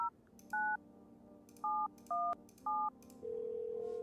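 In a video game, a telephone keypad dials a number as five separate two-tone beeps, spaced irregularly, followed by a steady held tone, all clean and fairly quiet against a faint background.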